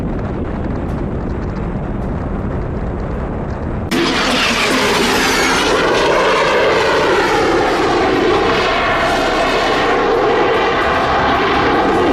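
A loud aircraft engine drones in flight, a steady rushing roar that jumps sharply in level and brightness partway through, with swooping, shifting tones as the aircraft stalls at high altitude.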